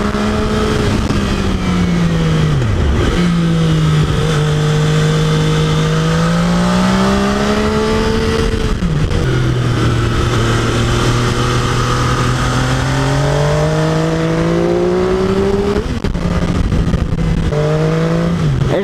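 MV Agusta F3 675 sport motorcycle with a three-cylinder engine, ridden on a road scattered with leaves, its loud, steady howl rising and falling with gear changes and throttle shifts throughout.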